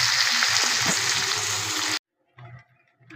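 Spices hit a hot pan of chicken kosha with loud, dense sizzling for about two seconds. The sound cuts off abruptly, then softer scraping and stirring noises follow.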